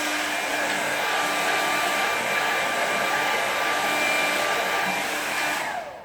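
A hair dryer blows on watercolour paint with a steady loud whoosh and whine close by, then winds down at the very end.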